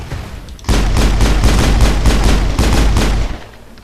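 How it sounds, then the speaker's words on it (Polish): A rapid burst of loud gunfire in the video game Mass Effect 2 crackles continuously for about three seconds, then cuts off, with a quiet lead-in before it. "celny strzał się przydaje"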